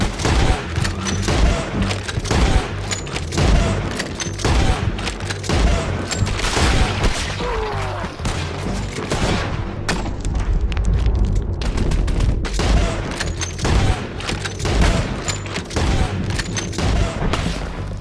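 Dense, continuous gunfire from a Red Dead Redemption 2 shootout: rapid overlapping gunshots and booming volleys crackle nonstop at steady loudness, with no voices heard.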